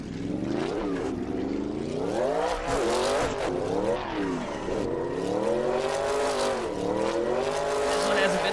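Drift car engine from a video game, modelled on an FD drift car, revs up and down in rapid repeated surges with tire squeal, steady and loud without pauses.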